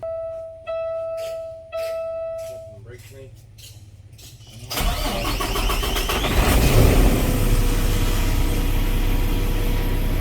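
A Paccar truck engine, just fitted with new fuel filters, has a dashboard chime beeping first, then cranks briefly before catching and settling into a loud, steady diesel idle close by.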